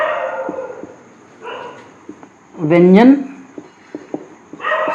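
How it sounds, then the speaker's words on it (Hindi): A dog barks just outside a gate, close by, in a short burst of loud yelping barks that rise in pitch, with someone speaking before and after. "ये तो यहीं पे भौंक रहा है"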